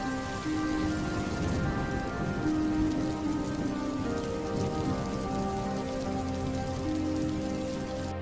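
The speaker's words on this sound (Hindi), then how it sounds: "रास्ते में बहुत जोरों से बारिश शुरू हो जाती है" Heavy rain pouring steadily at night, a dense, even hiss of drops drumming on surfaces that stays loud and unbroken throughout with no voices.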